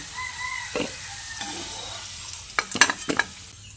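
Fried potatoes lifted from sizzling hot oil in a pan, a steady frying hiss with a few sharp clinks of a utensil against the pan toward the end.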